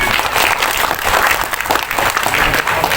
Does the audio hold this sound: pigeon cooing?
no